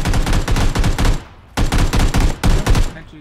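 Rapid automatic gunfire in the PUBG battle royale game, loud bursts of rattling shots in three clusters separated by brief pauses, close and dominant.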